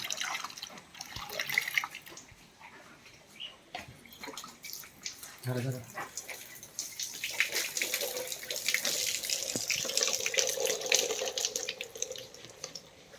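A cow's prolapsed uterus is washed with water mixed with potassium permanganate, giving intermittent splashing, pouring and dripping water sounds, fairly close, with voices talking in the background.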